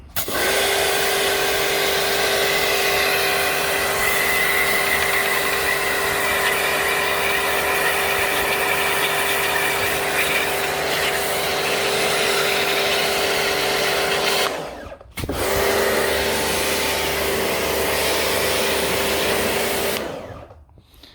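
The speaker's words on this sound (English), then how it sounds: "I'm going to try and give it a clean, and I'm going to use the jet washing" A loud, steady high-pressure spray hisses almost continuously as a pressure washer cleans a Ford catalytic converter, broken by one brief pause near the end before resuming, with no voices.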